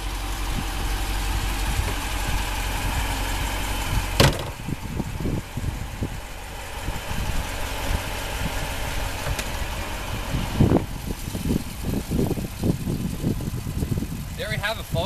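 The 6.4-liter V8 Hemi of a 2014 Jeep Grand Cherokee SRT idles steadily at close range, a continuous low rumble with a couple of brief knocks, while someone talks over it.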